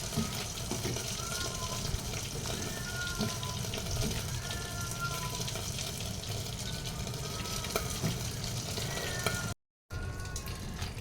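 Corned beef with long green chilies and bird's eye chilies sizzles steadily in a frying pan as it is stirred, a soft continuous crackle with faint scraping, briefly cut off near the end.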